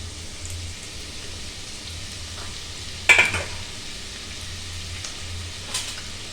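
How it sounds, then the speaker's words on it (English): Onions dropped into hot peanut or sunflower oil on high heat, a soft steady sizzle with one sharp crackling burst as they hit the pan and a smaller pop later. "Now the oil is hot, so I'm going to put in the onions."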